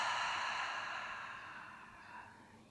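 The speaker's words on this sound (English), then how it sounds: "And exhale." A single long exhale from Kapalabhati breathing practice, close and breathy, fading gradually over a few seconds.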